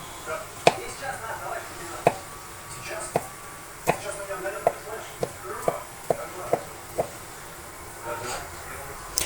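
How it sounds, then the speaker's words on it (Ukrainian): A knife chops through boiled jacket potatoes into cubes on a board in a steady series of crisp, close knocks, about a dozen strokes with short pauses. "нарізаємо картоплю. Я нарізаю кубиком."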